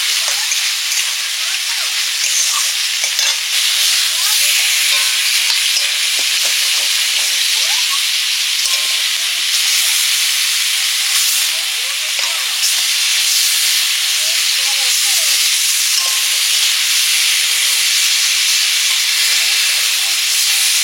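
Fish frying in oil produces a loud, continuous hissing sizzle that holds steady for the whole stretch, close up, with small crackles scattered through it.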